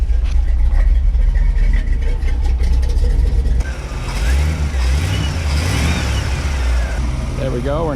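Car engine idling steadily after a universal Coldmaster air conditioning install on a Subaru Legacy, loud and close, a low continuous hum with a shift partway through as someone talks over it.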